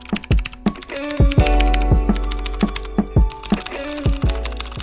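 Rapid clicky typing on a Redragon K552 Kumara mechanical keyboard with blue switches, with sharp, crisp key presses in quick bursts and a few heavier thocks from larger keys.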